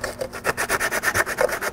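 Abrasive sandpaper-style cloth scrubbing the exhaust ports of a 2000 Pontiac Montana 3.4L exhaust manifold, a close, loud gritty rasp repeated in a steady back-and-forth rhythm of about ten strokes with no talking.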